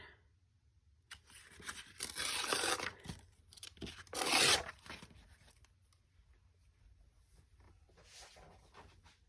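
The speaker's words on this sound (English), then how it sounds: "I'll tear about that much off there." A single sheet of paper is torn by hand in a quiet room for papercraft, with a couple of separate ripping strokes, the second louder and sharper, followed by soft rustling.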